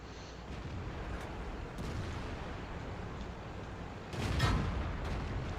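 Tank cannon fire and shell ricochets in a video game featuring the O-Ni superheavy tank: a steady rumbling battle din with a louder, booming burst near the end.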